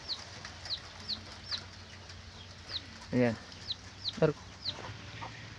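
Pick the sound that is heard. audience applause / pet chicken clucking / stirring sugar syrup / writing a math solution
pet chicken clucking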